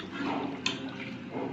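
Water pours steadily into a simmering fish curry for a moment, a soft continuous rush with one small clink partway through.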